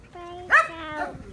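A pet dog named Maggie barks in a home, a few close, sharp yaps near the middle amid a steady background tone, with people talking around it.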